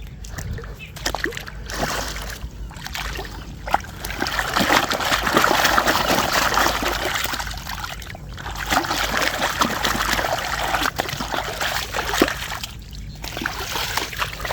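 Shoes are washed in standing water on a flooded field in a South Punjab village, with repeated splashing and sloshing of water and a person talking over it.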